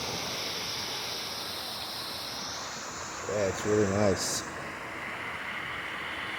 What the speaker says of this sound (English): And then over here, we got the waterfall.